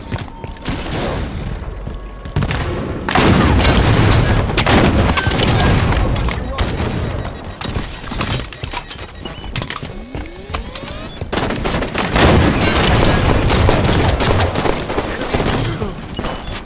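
Rocket launcher fire and explosions in Halo 5 online multiplayer: loud booms and heavy gunfire bursts throughout, densely layered with in-game voices and battle noise.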